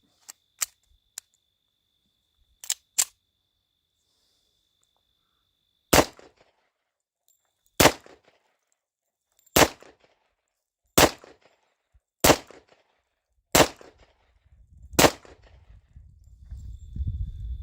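A Tisas 10mm pistol fires at a shooting range: a few quick shots first, then single sharp reports spaced a second or two apart, loud and close, each followed by a short ring.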